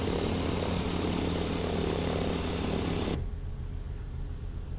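A Diamond DV20 light aircraft's propeller engine drones steadily, then abruptly cuts off at shutdown, leaving a quieter residual hum.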